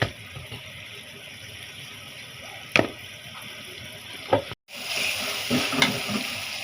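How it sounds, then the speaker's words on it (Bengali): A turmeric and chili spice mix being sautéed in a pan before fish is added, with a steady sizzle, a few sharp utensil clacks, and a brief cutout before the frying noise resumes louder. "এই তো মশলা হলুদ মরিচ সব দিয়ে নিছি এটা একটু করে কষাবো আমি"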